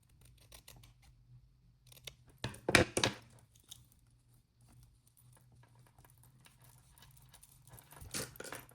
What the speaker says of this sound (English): I'm gonna cut this piece in half.